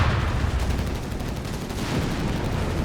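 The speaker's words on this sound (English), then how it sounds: "Quick grenade here on the 30 cal crew." Company of Heroes 3 battle with a grenade thrown at a 30 cal machine-gun crew, a dense, continuous rumble of explosions and gunfire, loud and unbroken, no voices.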